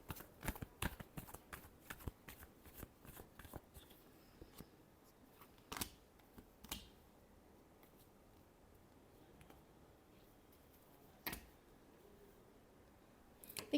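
Tarot cards shuffled by hand for a love reading, a run of quick dry riffling bursts at the start, then sparse, softer snaps and flicks with pauses between, close and fairly quiet.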